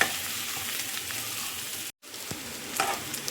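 Ginger, garlic and green chillies fry in a pan with a steady, close broadband sizzle, broken by a brief silent gap just before two seconds, then resuming with a few small pops and scrapes.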